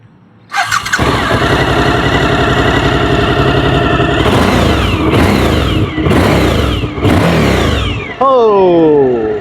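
A Suzuki V-Strom 1050 motorcycle engine fires up close by, idles with a throaty exhaust, then revs hard in several sharp bursts before a final rising roar.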